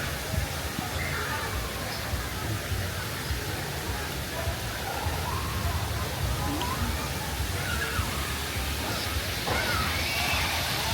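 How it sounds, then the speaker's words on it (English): Water splashing at a children's water play area on a cruise line's private island resort, a steady broadband wash of sloshing and spraying water filling the whole clip, with faint distant voices mixed in. "Lots of water, lots of splashing."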